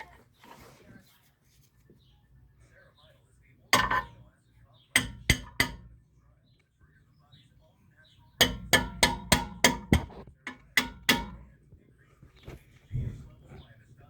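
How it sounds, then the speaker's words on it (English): Sharp metal hammer blows on a pickle fork separating a front driver axle joint on a 2008 Chevy Malibu 3.5 L, one strike, then a pair, then a quick run of about ten ringing hits, close and loud over quiet garage background. "So I'm gonna keep hammering at that."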